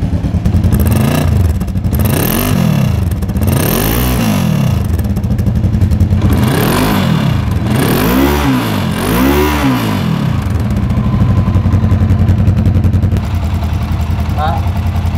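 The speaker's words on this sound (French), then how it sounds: "la moto, elle démarre au quart de tour. Même sans la synchro, vous voyez comment elle tourne rond?" A cheap used trail motorcycle with freshly rebuilt carburetors idles roughly close up, then is revved repeatedly in rising and falling swells before settling back to a steady loud idle.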